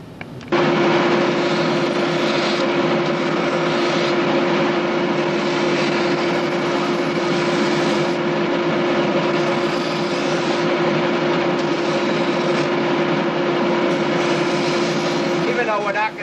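A belt sander trimming rough edges, running as one loud, steady whine with a constant droning tone that holds unbroken for the whole stretch, with no talking.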